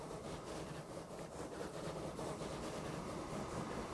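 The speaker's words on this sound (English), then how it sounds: "Let's see how fast this train will go on this grade again" A double-headed train in Transport Fever 2 labours uphill on a grade, a steady, fairly faint rolling rumble with rhythmic wheel clatter throughout and no voices.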